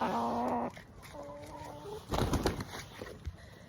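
Wyandotte cross hen named Karen giving a few short clucking calls, close and fairly quiet, followed by rustling and scuffling sounds.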